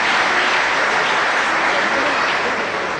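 Steady, dense applause from a live comedy-show audience fills the whole stretch, loud and even, with no pause in the clapping.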